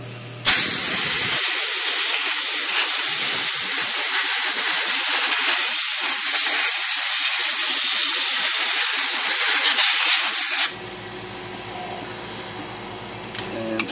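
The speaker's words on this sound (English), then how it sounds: "I'm gonna blow all that out with compressed air" A long, powerful blast of compressed air hisses steadily into the lower pivot block of a Smith Corona typewriter, loud and unbroken for about ten seconds before cutting off to quiet room noise.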